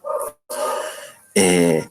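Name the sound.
neighbour's dog barking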